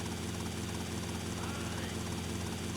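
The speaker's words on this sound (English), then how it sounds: "I'm just taking a helicopter to a different destination" A helicopter in the GTA Vice City video game: a steady, continuous rotor and engine drone at moderate level, unbroken throughout with no other sounds standing out.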